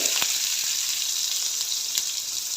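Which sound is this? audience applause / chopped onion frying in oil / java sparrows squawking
chopped onion frying in oil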